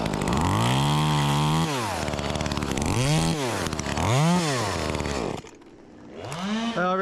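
A cheap knock-off of an Echo 2511T top-handle chainsaw runs up close and loud, holding a steady buzz and then revving up and down in repeated swells. It drops away briefly near the end before revving again.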